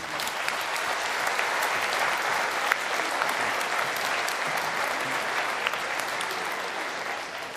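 A crowd at an outdoor faith festival held at a boules ground applauds steadily, a dense continuous wash of clapping heard from a moderate distance for several seconds.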